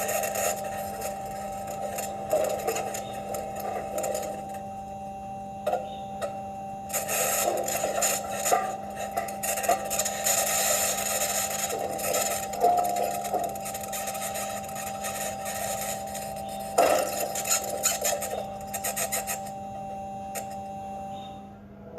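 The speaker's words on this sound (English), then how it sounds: "we can hear the bangs, pings, and rattles from metal wheels rolling over the rocks" NASA Mars rover metal wheels roll over rocks: a faint, steady mechanical hum carries scattered scraping, rasping bursts, light clicks and rattles, with no voices present.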